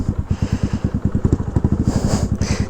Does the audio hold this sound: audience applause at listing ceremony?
no